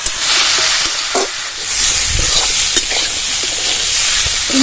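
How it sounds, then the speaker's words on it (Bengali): Pumpkin fries in a pan with salt and turmeric, a loud, close sizzle broken by scraping stirs and clatter from the spatula, with no voices. "লবণ হলুদ কুমড়োকে ভালো করে ভেজে নেবো"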